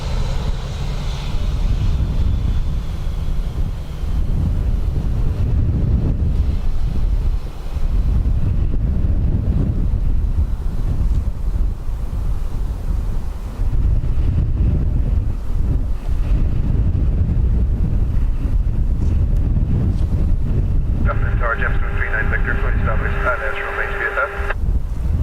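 Strong gusty wind buffets the microphone outdoors at Dublin Airport, a continuous loud rumble with a faint aircraft-like drone, while someone talks and a brief radio transmission crackles in near the end.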